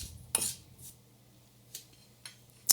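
A utensil clinks and scrapes against a bowl while mixing sugar with lemon, a few sharp isolated taps spread over quiet pauses.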